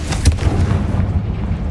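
A Confringo blasting curse bursts in Hogwarts Legacy with a heavy low boom near the start, followed by a rumbling tail that fades over the next second or so.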